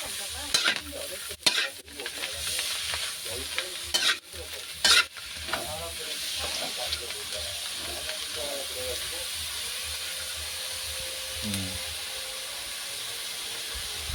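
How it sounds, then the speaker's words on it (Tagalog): Food is dry-roasted in salt in a pan and stirred, giving a steady close hiss with a run of loud scraping stirs near the start and quieter scraping later, plus an occasional faint high tone. "Isasangag natin sa sa asin para din masira."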